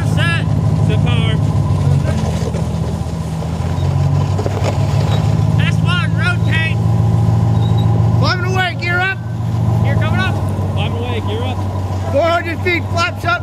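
Military training aircraft engines run up to takeoff power during a night student pilot training flight, a loud steady roar with a low droning hum throughout, while crew voices call out checklist items over the intercom.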